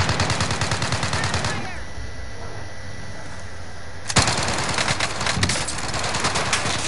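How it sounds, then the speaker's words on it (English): Rapid gunfire from a multiplayer shooter video game rattles loudly in dense bursts, drops away for a couple of seconds, then resumes as a sharp shot followed by further volleys, with players talking over it. "Where are you shooting from?"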